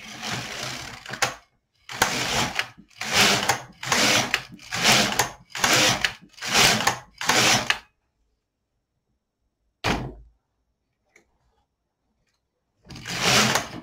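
A Brother LK150 knitting machine knits rows of waste yarn for a size S cardigan, its carriage swishing across in eight quick, evenly spaced passes, then a pause, one more pass and a final sweep.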